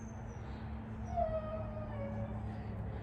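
A dog waiting outside to be let in whines and howls faintly with thin rising and falling cries over a steady low hum, fairly far from the microphone.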